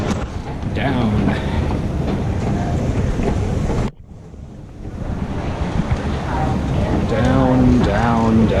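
Steady rumbling of a moving airport plane train with a brief drop in noise partway, while voices speak over the running train.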